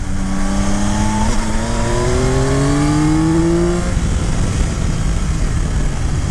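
A 2022 Yamaha Tracer 9 GT motorcycle engine revs steadily higher on a country road for about four seconds, then eases off, with loud, continuous wind and road roar throughout.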